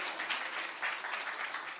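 Steady, thick audience applause greets a guest arriving on an interview stage, a continuous crowd of clapping hands at even loudness throughout.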